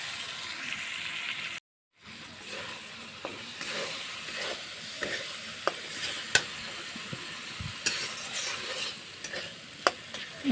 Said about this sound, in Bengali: ভালোভাবে মুগ ডালটা আর মশলাটা মিলিয়ে নিচ্ছি একসাথে।